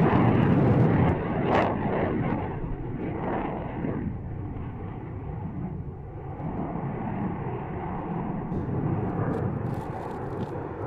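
An aerobatic airplane performs a flying display at the Duxford air show, moving from an inverted pass into a negative-G push: a broad engine roar, loudest at the start, then a sustained rumbling drone at a distance.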